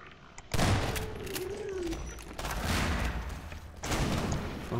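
Gunfire in the Half-Life 2 Episode 2 video game: an abrupt, loud burst of shots that keeps going as dense, sustained firing, with a fresh surge near the end and a faint voice briefly underneath.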